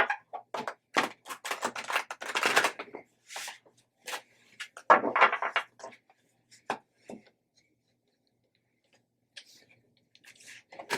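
Rapid papery riffling and soft slaps come in bursts, like cards being shuffled close up, then trail off into a few scattered taps.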